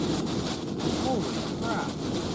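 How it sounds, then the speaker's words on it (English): Strong wind roaring steadily against the microphone during a violent supercell storm in Texas, loud and close, with a voice speaking over it. "That's a really strong wind"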